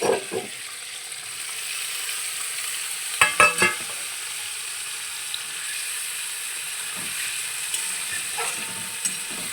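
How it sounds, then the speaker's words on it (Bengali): Small pieces of paneer frying together in a pan, giving a faint steady sizzle with a brief cluster of stirring clatter early on and a few light taps afterward, close and quiet. "এগুলো আমি একসাথেই সবগুলো ভেজে নেব"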